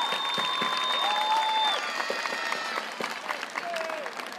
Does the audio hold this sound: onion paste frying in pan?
no